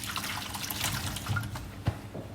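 Hands are rinsed under running water at a kitchen sink, a close, steady splashing stream with a brief louder splash near the end, and no talking.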